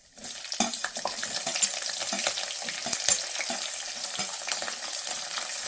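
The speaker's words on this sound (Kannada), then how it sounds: "ಇವಾಗ ಮೆಣಸಿನ್ಕಾಯಿ ಹಾಕ್ತಾ ಇದ್ದೀನಿ." Green chillies spatter and crackle in hot oil as they are stirred for raw mango rice, close and lively, with irregular pops and scraping bursts over a continuous sizzle and no speech.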